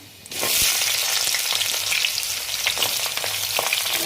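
Moringa drumsticks drop into hot oil in a pan for shukto and set off a loud, sustained sizzle that starts abruptly and continues evenly, with faint crackles and no voices.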